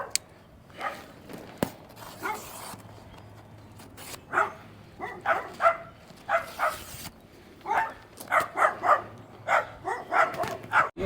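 Several dogs barking and yipping in short bursts while running around an outdoor yard during a French drain install, the barks moderately near and scattered across the clip over faint footsteps.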